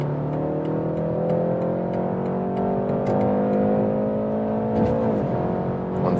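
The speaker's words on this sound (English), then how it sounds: "that's really nice sound for a 4-cylinder engine, of course working with that sound actuator" A 2023 BMW 330i M Sport's four-cylinder engine, heard through its sound actuator, accelerates hard in a rising drone of climbing harmonics with a brief dip as a gear changes near the end, heard from inside the car.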